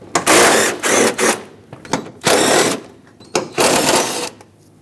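Three 13mm bolts being backed out of the battery tray on a Ford E-350, heard as four loud, close, rattling bursts of a ratchet or power tool with brief pauses between them.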